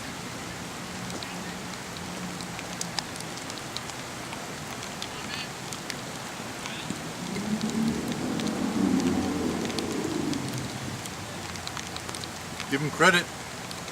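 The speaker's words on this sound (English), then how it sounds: "They are playing in the rain." Steady hiss of rain falling over an outdoor kickball league game, with people talking throughout and a few honking, duck-like calls rising above the wash of rain.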